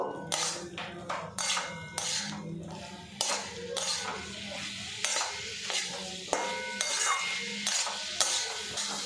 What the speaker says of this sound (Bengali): মশলার সাথে আরেকটু নাড়াচাড়া করে কষিয়ে নেব।